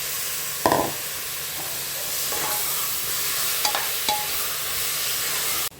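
Chopped tomatoes cooking with sautéed onions in a pan, a steady hissing sizzle close by with occasional scrapes and taps of a spoon stirring, no voices.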